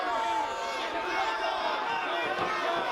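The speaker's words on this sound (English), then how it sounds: "Have you ever heard a crowd this loud?" A loud, dense crowd roars and cheers at an outdoor festival pro wrestling match, a sustained wall of voices with a commentator talking over it.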